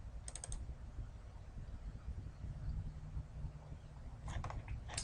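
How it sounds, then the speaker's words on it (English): Two quick sharp clicks at the start and another short cluster near the end, like a computer mouse double-clicking while a student record is opened, over a steady low room hum. "just double click on the student"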